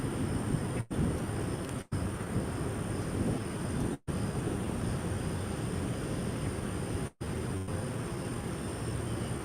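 An Alaska Airlines jet at Austin-Bergstrom International Airport rumbles in a steady broadband roar, loud and continuous, with brief dropouts of sound.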